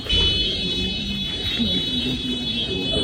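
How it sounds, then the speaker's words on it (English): A hotel fire alarm in Paris rings steadily and loudly with a constant high-pitched electronic tone, continuing without pause over a low background rumble during an evacuation. "The hotel we're staying in Paris is being evacuated because the fire alarm has gone off."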